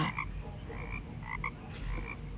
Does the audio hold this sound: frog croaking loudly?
yes